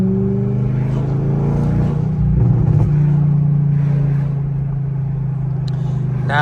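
An Audi S8 with full bolt-on modifications rumbles loudly, its engine and exhaust holding a deep, steady drone that swells briefly as the revs rise, then settles back to a throbbing idle.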